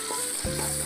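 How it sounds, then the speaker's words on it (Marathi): Onion and tomato sizzle steadily in hot oil in a pan, a continuous close frying hiss with no talking. "कांदा टोमॅटो चांगला असं परतवून घ्यायचा,"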